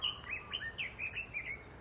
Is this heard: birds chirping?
yes